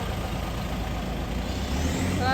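A truck rumbles at low engine speed in Malaysia, with a continuous heavy drone and a rising air-brake hiss toward the end, heard fairly close with no talking.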